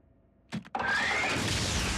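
Cartoon Transformers robot car starting up: two quick mechanical clunks, then an engine roaring to life and holding a loud, steady rev.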